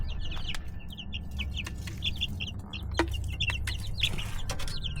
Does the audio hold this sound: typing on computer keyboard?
no